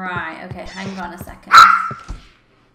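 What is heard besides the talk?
dog barking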